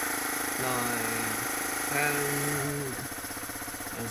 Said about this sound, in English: Yeah, it's idling really slow, it might cut out.